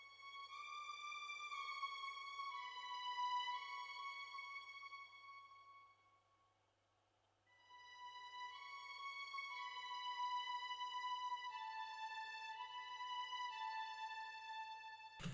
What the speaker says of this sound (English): so I've just found this violin off Splice that sounds like this.